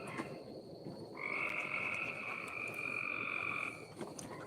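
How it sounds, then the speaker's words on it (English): Frogs croak outside a house at night, a steady high-pitched trill holding for a couple of seconds over a dense chorus of calls, moderately distant with no voices. "there's frogs outside the house right now"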